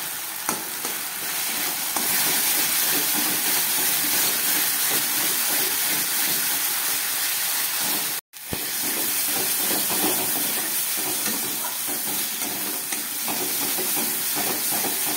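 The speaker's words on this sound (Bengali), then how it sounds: "খুব ভালো করে এবার মশলাটাকে আমি কষাবো।" Spice paste with turmeric and salt frying in a pan for a fish curry with eggplant and tomato, a loud continuous sizzle and stirring hiss that cuts out briefly midway and resumes.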